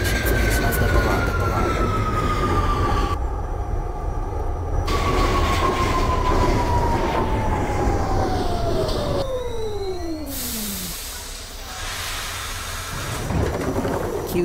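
Subway Q train running between stations in the OpenBVE train simulator game on the Sea Beach local route, a continuous loud rumble with a long whining motor tone that slides down in pitch twice as the train slows.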